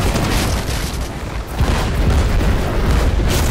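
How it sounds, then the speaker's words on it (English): Ship cannon fire in a pirate sailing battle video game, a dense, loud stretch of booming blasts and rumble with no pauses. "Fire the left cannon!"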